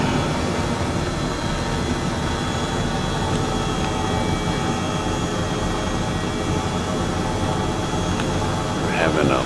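Airbus H135 helicopter flying over Las Vegas, a steady dense rotor and turbine drone that stays loud and close throughout the cabin, unbroken from start to finish.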